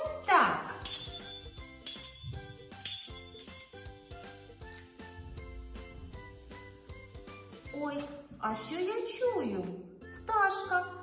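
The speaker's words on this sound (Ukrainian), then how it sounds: "в нас є незвичайні дзвоники, але вони не грають поодиночки, вони грають у парі" Bright little bells ring out in pairs, a pair of bells used as a musical instrument, clear tinkling strikes repeating at intervals, with a voice chiming in near the end.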